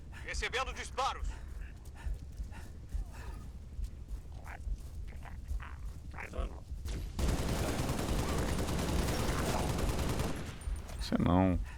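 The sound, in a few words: gunfire in video game Dying Light 2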